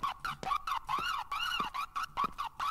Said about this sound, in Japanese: ポリもポリでサイレンで遊んでるやんけ。